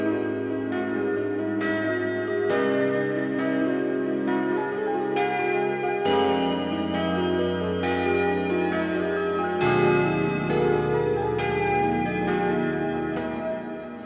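Bright bells in a pluggnb mix ring out in a repeating melodic pattern, each note chiming clearly over a sustained musical backdrop, with no voices.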